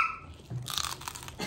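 Crisp crunching bites into crispy roasted lechon skin, a few close, crackly crunches in quick succession after a brief quiet start.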